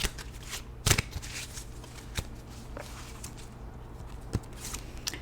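Tarot cards from an illuminated deck are shuffled close by in short riffling bursts, with a few sharper card slaps standing out against a quiet room.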